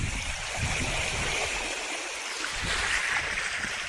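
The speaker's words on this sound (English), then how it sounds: "I'm literally driving in water." A bicycle rides through shallow water on the north side of Caye Caulker, Belize, with a continuous splashing, gurgling wash of water close by.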